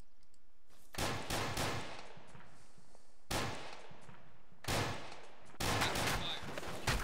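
Bursts of gunfire in the military shooter game Arma 2, several loud volleys of rapid shots separated by short pauses, with a voice speaking briefly between them.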